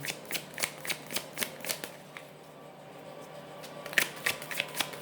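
Tarot cards being shuffled, a steady run of crisp riffling flicks in quick rhythm, close and fairly quiet, with a short lull in the middle before the shuffling resumes.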